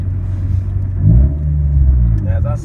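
A Honda car on gold rims hums with a low engine drone and road rumble while driving, a steady close bass rumble under a person talking.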